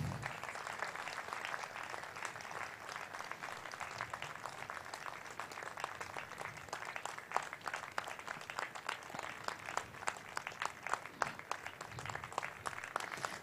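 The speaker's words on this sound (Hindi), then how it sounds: "बहुत ज़ोरदार तालियां" Sustained applause from an audience at a classical Indian music festival honoring Pandit Jasraj, a steady mid-level wash of many hands clapping with no break for about thirteen seconds.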